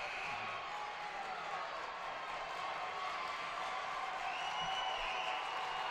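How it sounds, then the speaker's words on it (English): Packed college basketball gym with fans of both teams making noise in the final minute, a steady crowd roar and scattered cheers under a commentator's voice. "Crowd for both teams getting up, making some noise, trying to get everybody going this last minute."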